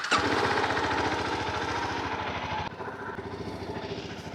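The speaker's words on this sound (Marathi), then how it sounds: "कोल्ड स्टार्ट देऊया." A loaded touring motorcycle idling right after a cold start, its engine chugging in a fast, even, throbbing pulse close by, dropping slightly in level partway through.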